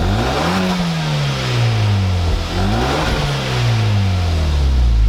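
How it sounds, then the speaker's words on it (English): Hyundai Veloster Turbo engine revved repeatedly, loud rising and falling swells close by, with a whirring turbo over a steady engine drone and no talking. "We're going to give it a little bit of a rev so you guys can hear the turbo."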